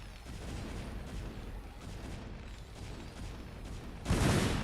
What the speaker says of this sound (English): Okay, the Vultures are fighting photon cannons.